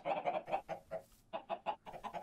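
Chickens in a Minecraft-style video game cluck in quick bursts, close and fairly loud, with short gaps between rapid clucks and no speech.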